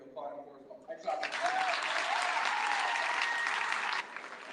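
Audience at a middle school awards celebration breaks into applause after a short pause, a broad wash of clapping that holds for about three seconds before fading, with voices faintly audible over it.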